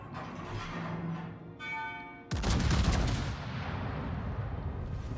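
Warship main battery guns fire in the World of Warships naval game: a sudden loud broadband boom about halfway through, with a long rumbling decay over steady battle background and a short rising tone just before it.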